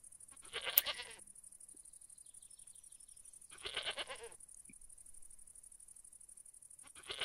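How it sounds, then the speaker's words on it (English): A goat in the Goat Petting Simulator video game bleats in three separate wavering calls spaced a few seconds apart, clear and close, with quiet gaps between them and no talking. "I mean, the goat sounds pretty happy."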